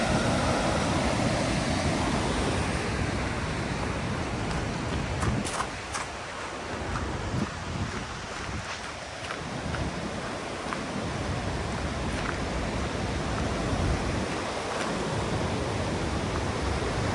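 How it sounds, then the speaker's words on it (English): A river rushes at Falls Creek in New Zealand, filling the scene with a dense, unbroken hiss of flowing water that stays loud and steady throughout, with occasional faint clicks and thumps close to the microphone. "You guys can hear the sound of the river."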